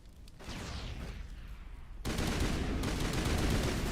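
A thrown grenade bursts in a first-person shooter game, a sudden loud blast that jumps up in level and leaves a sustained, rumbling roar of explosion and debris hanging on afterward, with no voice over it.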